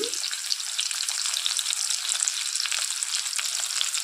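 Onions, green chilies, garlic and ginger fry in hot oil, giving a loud, continuous, close sizzle with no pauses.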